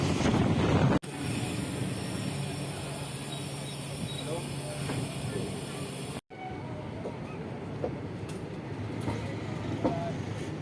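Doon Express train arriving at Ayodhya Cantt station, a steady rolling rumble with wind buffeting the microphone, briefly cut off midway, then continuing with faint clanks and knocks.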